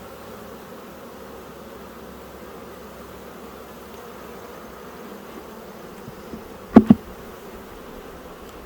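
Honeybees swarm around a brood frame while a colony is moved from a nuc into ten-frame equipment. A steady, droning hum fills the whole stretch, broken by a brief double knock near the end.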